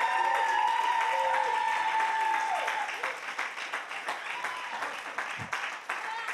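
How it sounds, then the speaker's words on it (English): A church congregation claps its hands in welcome, steady at first and then thinning to scattered claps, with voices and a tonal hum running beneath the clapping. "Clap your hands for them being here."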